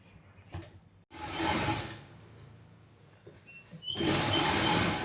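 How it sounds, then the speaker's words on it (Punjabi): A sewing machine stitches a lined salwar in two short bursts of whirring, separated by a quiet pause with faint handling sounds, fairly soft and close with no talk. "ਤੇ ਹੁਣ ਆਪਾਂ ਸਲਾਈ ਲਗਾਵਾਂਗੇ"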